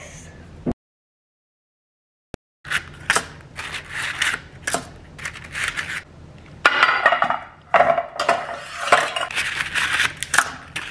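Ingredients with cracked eggs are stirred in a bowl, a brief quiet gap giving way to a run of close, irregular scraping and clinking strokes.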